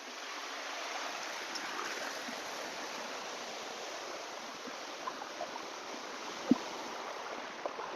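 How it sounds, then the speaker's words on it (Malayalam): A small stream and low waterfall in hill country run with a continuous, even rushing wash, moderately near, with a faint click or two and no speech. "ഈ വെള്ളച്ചാട്ടം ചെറിയ വെള്ളച്ചാട്ടമാണ്."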